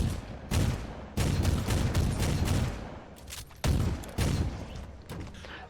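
Heavy gunfire in Warhammer 40k Inquisitor Martyr from a heavy gunner, a dense, sustained barrage of booming automatic fire with a few sharp breaks and renewed bursts.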